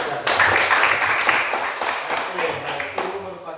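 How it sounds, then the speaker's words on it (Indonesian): A classroom of students claps for a classmate after an answer, a moderate, steady patter of hands with voices talking over it. "Tepuk tangan untuk Aksa."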